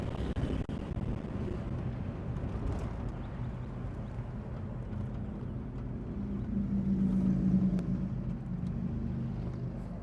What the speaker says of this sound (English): so I'm going to go take it for a test drive.